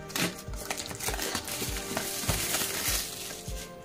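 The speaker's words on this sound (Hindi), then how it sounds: "मैं इसके ऊपर लगे हुए रेफर को कट कर लेता हूं और इसको हटाने के बाद हम बॉक्स को ओपन करते हैं" A plastic wrapper is cut off and a Jio Phone Prima 4G box is opened: continuous crinkly rustling with soft, regular low thumps, close by, with no talking.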